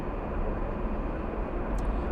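An airliner on the Orlando flight at LAX gives off a steady, broad jet roar at moderate distance, continuous and even across the moment with no voices.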